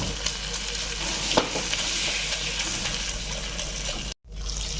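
Egg cracked into a pan with cardamom and bay leaves, frying for a potol dorma recipe, gives a steady close sizzle for several seconds, broken by a brief gap of silence near the end before the sizzling resumes.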